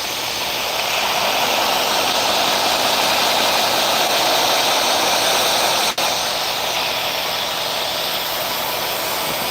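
A belt grinder grinding hard steel gives a loud, continuous abrasive hiss and whine close up, holding steady for the whole stretch apart from one brief break.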